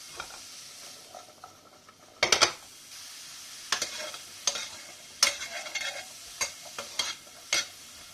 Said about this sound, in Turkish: Kavruluyor şu anda mantarlarım.